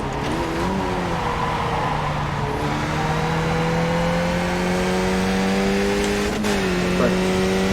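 Race car engine held at full throttle in a racing video game, a steady loud high-pitched drone with gently rising pitch and brief shifts, continuous throughout.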